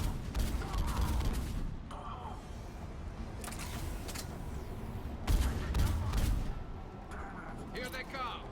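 Mass Effect 3 video game battle on Tuchanka with heavy gunfire: bursts of shots crackle in clusters over a rumbling backdrop, while voices shout intermittently.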